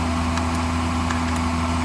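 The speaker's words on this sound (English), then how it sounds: "engine runs" A Mercedes SL600 engine idling steadily during a throttle body test, a continuous low hum with a few faint clicks above it.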